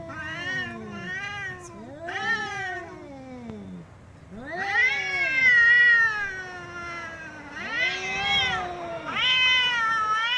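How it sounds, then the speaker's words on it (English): Cats fighting in grass let out long, wavering yowls and drawn-out caterwauls, several rising and falling cries in a row, fairly close and loud with short pauses between them. "I've never seen cats fight."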